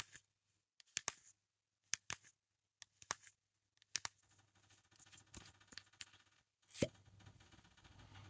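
Several sharp clicks and small pops in quick succession as a mascara tube is opened, close and quiet, with faint rustling and handling noise between them.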